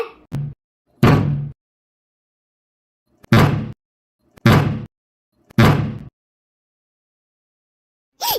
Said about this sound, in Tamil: ஒரு சுத்தியில எடுத்துட்டு வர முத்துமாரி, உடைச்சி தோற